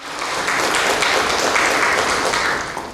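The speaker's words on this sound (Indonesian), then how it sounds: "Tepuk tangan dulu." A studio audience at an Indonesian talk show on parenting teenagers claps together in a steady, dense wash of applause, loud and sustained with no voices over it.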